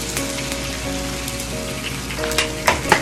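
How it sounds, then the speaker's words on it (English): Egg sizzling in a hot pan with meat for Trader Joe's spicy Thai shrimp fried rice, a close continuous crackle with a few sharper pops toward the end. "I'm going to add that egg to that meat"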